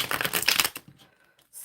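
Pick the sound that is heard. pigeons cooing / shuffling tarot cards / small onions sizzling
shuffling tarot cards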